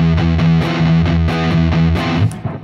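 Electric guitar rock riff played through a heavy fuzz drive in the style of a Big Muff, with chugging palm-muted notes in a steady driving rhythm, loud and close, cutting off near the end.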